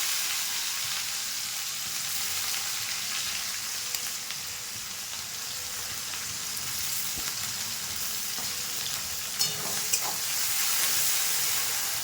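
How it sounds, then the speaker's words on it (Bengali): Chopped onion fries with cinnamon, cardamom and cloves in hot oil for a spicy egg curry, a steady close sizzle with occasional stirring clicks. "পেঁয়াজ কুচি দিয়ে দিচ্ছি"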